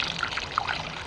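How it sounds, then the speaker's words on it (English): Coolant pouring and gurgling into a Can-Am Outlander ATV's coolant reservoir, a close, bubbly trickle lasting about a second. "I can hear it gurgling,"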